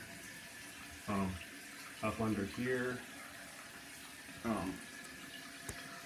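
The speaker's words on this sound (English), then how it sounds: "Turn the water on." Tap water runs steadily after the supply to a newly replaced toilet is turned back on, a constant hiss beneath a few short bursts of nearby speech.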